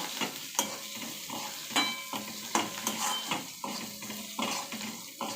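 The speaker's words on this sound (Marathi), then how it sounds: "मी याच्यामध्ये थोडीशी कोथिंबीर टाकते, कारण मला तेलात कांद्याबरोबर कोथिंबीर भाजलेली आवडते" Coriander leaves fry with onions in hot oil for gavar bhaji, giving a steady sizzle broken by regular scraping stirs of a spoon, close and moderately loud with no talking.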